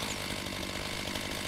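Steady, loud chainsaw buzz in a post-apocalyptic survival video game, a continuous harsh motor drone with no pauses.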